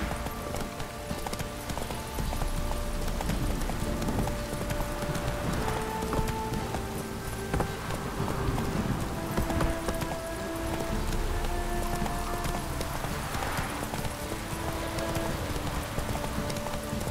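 A horse gallops steadily through the open world of The Witcher 3, its rhythmic hoofbeats continuous and close over a backdrop of ambient music for the whole stretch.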